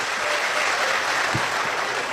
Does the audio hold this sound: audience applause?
yes